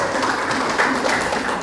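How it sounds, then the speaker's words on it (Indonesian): A classroom full of people clapping together, steady and fairly faint, with no voices standing out. "Tepuk tangan dulu untuk Zaskia."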